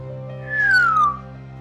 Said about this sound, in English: let out a low, surprised whistle.